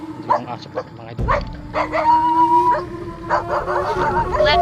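Several dogs bark, yip and howl in a rural outdoor setting, with a sustained howl running through the middle, fairly close, over a steady low engine-like rumble.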